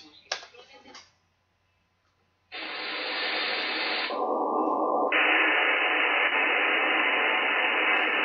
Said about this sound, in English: 11930 is the jammer from Cuba